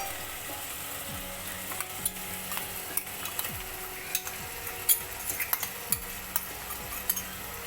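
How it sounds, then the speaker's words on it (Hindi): Pointed gourd and potato fry in masala in a pan, a steady low sizzle broken by repeated scraping and clinking stirs that quicken toward the end, with no voices. "और इसको तब तक भूनेंगे जब तक इसमें से तेल ना छूटे।"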